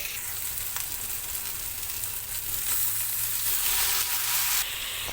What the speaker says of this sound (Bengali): এদিকে সবজি প্রায় ভাজা হয়েই গেছে